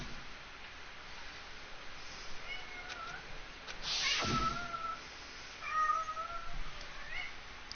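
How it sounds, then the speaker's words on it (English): A cat that wants to get in somewhere meows several times, faint and muffled, over a quiet background hiss, with one louder cry in the middle. "cat really wants to get in there"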